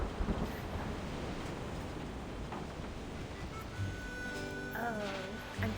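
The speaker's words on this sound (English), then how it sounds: "Oh, I'm terrified of storms." A thunderstorm with wind and rain: a steady, dense roar of wind and rainfall with low rumbling underneath, continuous throughout.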